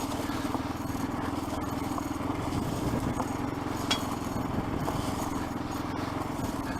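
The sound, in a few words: motorcycle riding on abandoned railway trail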